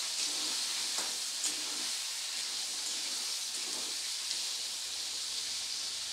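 Potatoes coated in a ground spice paste sizzle steadily in a hot frying pan, a continuous soft hiss with faint scraping as they are stirred, close and unbroken.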